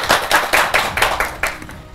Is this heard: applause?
yes